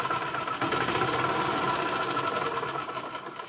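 1999 Yamaha G16 gas golf cart engine, freshly fitted with a new battery, catches and settles into a steady buzzing idle, fairly close and moderately loud, with no talk.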